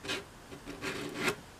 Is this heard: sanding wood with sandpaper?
yes